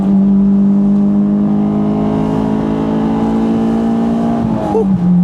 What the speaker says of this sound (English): that was a cruise with the Honda